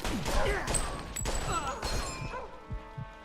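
Enemy gunfire in the Mafia 2 video game during Vito's wartime soldier chapter: a dense fusillade of sharp shots and crashing impacts, loud and close at first, then thinning out into a few scattered thuds.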